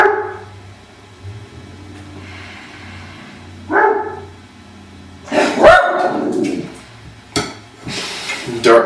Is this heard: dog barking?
yes